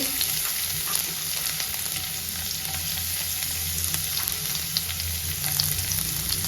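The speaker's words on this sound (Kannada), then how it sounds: "ಶುಂಠಿ ಬೆಳ್ಳುಳ್ಳಿ ಹಸಿ ವಾಸನೆ ಹೋಗಿ ಒಳ್ಳೆ ಘಮ ಬರೋ ತನಕ ಇದನ್ನ ಚೆನ್ನಾಗಿ ಫ್ರೈ ಮಾಡ್ಕೊಳ್ಳೋಣ." Ginger, garlic and curry leaves fry in hot oil in a pan, a dense, even crackling sizzle heard close up throughout with a low hum underneath and no talking.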